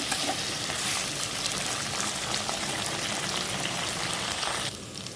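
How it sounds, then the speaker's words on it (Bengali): Capsicum, beans, potato and carrot fry in a pan with a dense, steady sizzle and crackle that lasts throughout, loud and close, and drops off sharply near the end. No voices are heard. "ক্যাপসিকাম আছে, বিন কড়াই আছে, আলু আছে আর গাজর আছে। সবজিটাকে আমি ভালো করে ভেজে নেব।"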